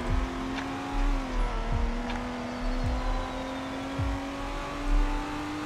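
A game car in Roblox Greenville, an eight-speed model, accelerates hard with an engine tone climbing steadily and dropping briefly at each upshift, roughly four gear changes in a row, close and loud.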